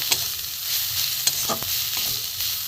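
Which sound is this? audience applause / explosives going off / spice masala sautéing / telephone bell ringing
spice masala sautéing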